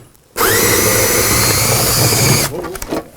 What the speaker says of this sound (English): I gotta actually put this on the drill mode